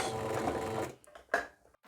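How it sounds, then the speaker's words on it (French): A sewing machine runs steadily, topstitching pleats in fabric, for about a second before stopping, followed by a few faint clicks and handling sounds. "On peut venir faire une surpiqûre comme ceci."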